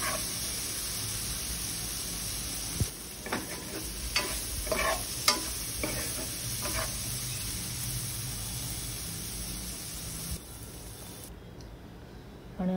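Marinated paneer sautéing in oil on high flame for a paneer cheese frankie: a steady, fairly quiet frying hiss with clusters of spatula scrapes and taps through the middle, then a softer sizzle.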